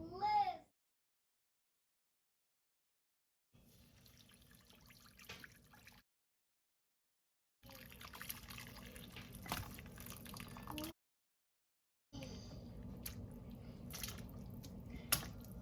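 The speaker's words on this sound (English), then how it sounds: "I'm going to empty out all of the karahi gosht that was cooking in the instant pot into the karahi" Mutton karahi gosht poured from an Instant Pot into a karahi, giving faint wet squishing and sloshing in several bursts separated by stretches of silence.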